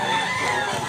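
Gamecocks at a chicken seller's in Cebu give a brief crowing call, close and moderately loud, under faint background noise.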